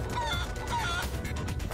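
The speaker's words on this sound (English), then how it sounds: "Look at my chicken!" Chicken clucking in the video game Guacamelee Super Turbo Championship Edition, a few short, faint clucks over a steady game background.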